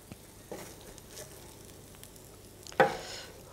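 Roasted cauliflower pieces dropped onto leeks in a hot pan, a quiet background sizzle with light stirring scrapes, then a louder hiss and clatter as more pieces go in near the end.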